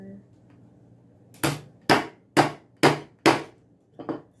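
A hammer tapping on a doll part, five sharp evenly spaced knocks followed by a sixth lighter double tap, loud and close in an otherwise quiet room.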